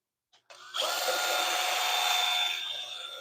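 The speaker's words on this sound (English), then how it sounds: "We will buff that out with a little bit better sanding here" A power sander whirs steadily against a wood bowl on a lathe, a loud, continuous rough hiss that starts abruptly and holds at an even level.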